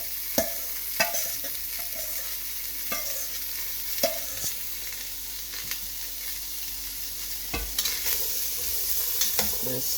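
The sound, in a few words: spices and vegetables frying and stirred in pan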